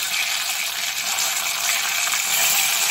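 Whole spices including dried red chilli, bay leaf and cardamom sizzling steadily in hot white oil, a close, continuous crackling hiss with no voices.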